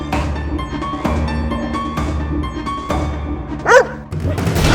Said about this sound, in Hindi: ये कुत्ता अदालत में क्या कर रहा है?